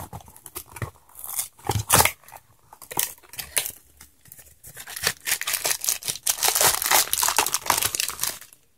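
A package is torn open and unwrapped up close, with loud bursts of crinkling plastic and paper in irregular rips and rustles that grow busier toward the end.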